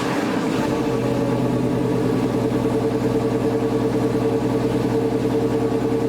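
1974 Ford F100 truck with a Gen 3 Coyote engine idling close up, a steady, rough, lumpy rumble that continues evenly throughout.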